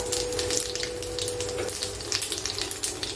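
Dried red chillies and nigella seeds hitting hot oil, a bright crackling sizzle with sharp pops, close and steady with no talking.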